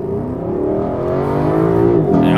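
A Lexus LC 500 launch: the powerful engine revs up steadily, its pitch rising through a gear before a brief shift and continued strong acceleration, loud and close.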